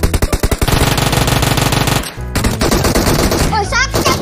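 An ADP gun firing at the player in a video game, a loud rapid automatic burst at first, then sustained chattering fire with brief gaps, close and intense, with game effects and voices mixed underneath.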